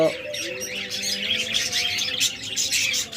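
Several lovebirds chirp and tweet continuously, bright overlapping calls from nearby birds in a shop with a dull background hum.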